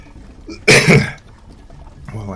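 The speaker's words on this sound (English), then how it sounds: "Well, I cough a little bit, pardon me." A single sharp, loud cough from one person close by, followed by a brief throaty sound.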